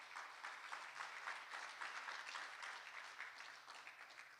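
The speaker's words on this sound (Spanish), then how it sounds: "Denle un fuerte aplauso al Señor" A church congregation applauds, a dense, even wash of clapping that holds steady for several seconds and sounds soft and somewhat distant.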